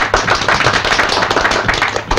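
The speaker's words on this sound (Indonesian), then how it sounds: "Tepuk tangan untuk Sam." Audience applause for Sam at a live stage show in a 1970s Indonesian film, a dense continuous clatter of many hands clapping, fairly loud and steady throughout with no talk.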